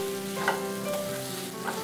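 Corn and masala mixture with amchur powder, garam masala and salt sizzles and fries in a pan while being stirred, a steady soft crackle with light scraping strokes, no voices.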